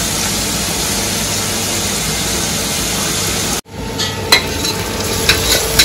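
Onions frying and being stirred in a pan give a steady, close sizzling hiss that cuts off abruptly, followed by quieter scraping and clinks.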